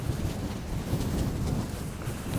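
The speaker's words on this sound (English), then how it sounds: "It's so windy up here." Strong wind buffets a hilltop on an island near Portland Bill, a continuous rough roar pressing on the microphone with no voices heard.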